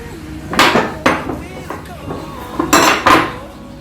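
Maida flour being stirred into apple pancake batter in a bowl, heard as several loud clinking, scraping strokes of a utensil against the bowl with pauses between them, with no talking.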